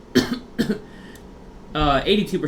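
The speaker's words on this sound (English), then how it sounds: "I'm coughing a lot." A couple of short coughs come near the start, followed by a voice speaking briefly at the end.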